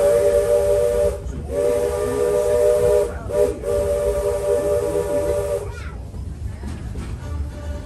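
The Magic Kingdom steam train sounds its whistle in three long blasts separated by short gaps, then a softer hiss of steam trails off with faint background voices.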